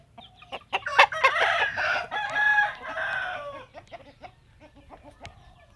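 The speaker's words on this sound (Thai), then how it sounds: "เอาไก่ออกจากกันหน่อยครับ" Chickens and a rooster in a home backyard coop in the morning: a loud, near rooster crow rises over scattered clucks, with softer clucking continuing afterward.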